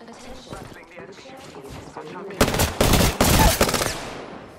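Automatic gunfire in the Apex Legends video game, bursting loudly in rapid fusillades in the second half after calm voices talk over quieter game sound.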